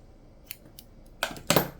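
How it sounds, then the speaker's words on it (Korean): Scissors snip through a yarn tail during crochet work on a half-moon bag: a light click, then two sharp, close cutting snips near the end. "꼬리실을 20cm 정도 남기고 잘라주세요"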